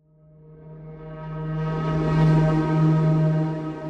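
A low tonal foghorn drone fades in and swells gradually, heavy reverb smearing it into a wide, washy hum with faint higher overtones hovering above.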